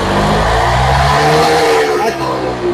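A Honda Activa BS6 scooter engine revs hard and steadily at close range, a loud sustained drone with rising and falling pitch during a mechanic's repair, with someone speaking over it.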